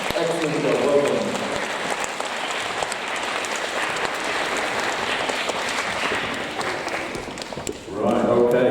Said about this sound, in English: can we give a round of applause for our eco?